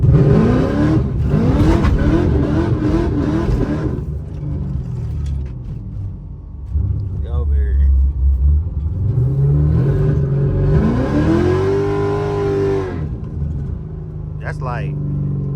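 A Pontiac G8 accelerates on a night drive, its engine rising in pitch as it builds speed, with a deep rumble under speech.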